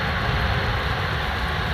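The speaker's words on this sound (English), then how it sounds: "This one is coming in from Kingston to Amsterdam, landing in via a Boeing 787" A Boeing 787 lands at Amsterdam Schiphol on the Polderbaan, arriving from Kingston, Jamaica, its engines giving a loud, close, steady broadband roar that fills the whole moment.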